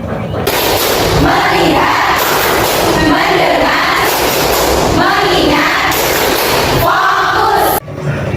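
Students in a classroom perform a rhythmic clapping ice-breaker, with loud bursts of group chanting and clapping in repeated phrases over about eight seconds before cutting off sharply.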